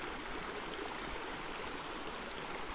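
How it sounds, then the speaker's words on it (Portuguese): Spring water runs continuously from a natural source, a steady, close, full-bodied rushing and gurgling with no voices over it. "É uma nascente de água"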